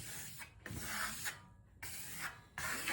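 A trowel spreading two-coat Imagine Velvet decorative plaster on a wall in short strokes in different directions: rhythmic rasping swipes separated by brief pauses, close and fairly loud, no talk.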